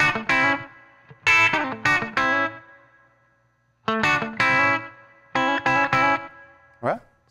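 An electric guitar plays a chicken pickin' lick, with bright, clipped note bursts in two quick phrases separated by a pause. The guitar is heard alone, close and clear.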